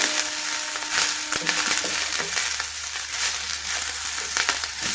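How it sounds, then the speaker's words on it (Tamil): Curry leaves sauté in hot oil for curry leaf thokku, giving a close, steady sizzle with crackling and occasional scraping stirs. "கருவேப்பிலை வந்து பார்த்திங்கன்னா அந்த எண்ணெயிலே கொஞ்சம் நேரம் வதங்கும் போது"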